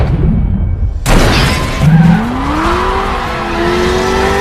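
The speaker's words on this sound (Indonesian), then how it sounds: "muncullah Cortez dengan mobil super cepatnya melewati mereka, mengerem dadakan sampai membuat mobil mereka terguling." A super fast car makes a sudden sharp burst of noise, then its tires screech in a loud rising whine over a rumbling engine, the squeal holding steady to the end.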